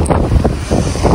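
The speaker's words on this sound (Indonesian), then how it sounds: "gede angin" Strong gusts buffet the microphone at an outdoor snow-clearing work site, a loud, rumbling roar that surges and dips throughout.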